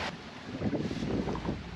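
Wind gusts to about 25 knots around a sailboat on the open sea between the Bahamas and Panama, a loud steady rush of wind noise with the hull and water surging beneath, no voices.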